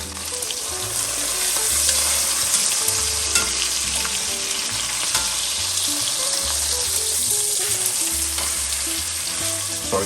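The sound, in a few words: searing pot roast meat in a hot pan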